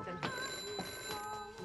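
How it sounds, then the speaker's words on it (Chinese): An old telephone bell rings on a 1980s Hong Kong sitcom set, a faint, continuous trill with soft talk and movement underneath. "啱啱电话响咗又唔知咧。"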